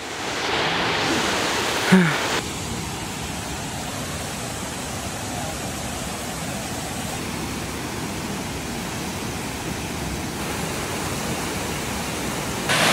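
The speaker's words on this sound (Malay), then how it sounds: "Ni dah ada air terjun ni." Waterfall at Lata Medang, a jungle hiking spot near Kuala Kubu Bharu, Selangor: a constant, moderately loud hiss of rushing water runs throughout, with a short bump of handling noise early on.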